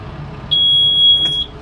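A Kubota M7060 tractor gives a single sustained high-pitched warning tone lasting about a second over a low engine rumble, with no talking.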